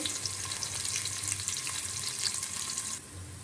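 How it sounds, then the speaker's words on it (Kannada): Onions fry in hot oil for a chicken dum biryani, a steady close crackling sizzle throughout that eases slightly in the last half second. "ಎಣ್ಣೆ ಕಾದಿತ್ತು, ಅದಕ್ಕೆ ಈರುಳ್ಳಿ ಹಾಕಿದ್ದೇವೆ ಸ್ವಲ್ಪ."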